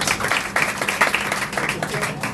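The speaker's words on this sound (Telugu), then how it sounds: "అయ్యగారిని ఆహ్వానిస్తుండగా అందరూ కూడా చప్పట్లు కొడుతూ సంతోషంగా దేవుని మహిమపడదాం" A church congregation applauding to welcome the pastor, a dense and steady wash of many hands clapping together for a couple of seconds.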